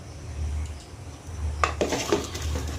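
Jeera rice being stirred in a pan after sugar goes in: quiet background hum at first, then a spoon scrapes and clinks against the metal in a quick run of strokes during the second half.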